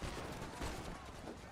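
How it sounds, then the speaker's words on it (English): Chaotic burst of gunfire in the video game Love and Deepspace, several rapid shots blending into a muffled, noisy fusillade over about a second and a half, fairly faint and crowded. "The sound of gunshot and screams chaotically blend together."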